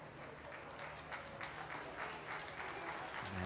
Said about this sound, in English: And you hear that applause as Miggy DeFizio and Lucas Moragas have made